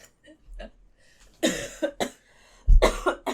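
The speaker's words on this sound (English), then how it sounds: "Sorry, I'm still coughing. But it's like dry cough." Several dry, raspy coughs in short bursts, close to the listener, with brief quiet gaps between them.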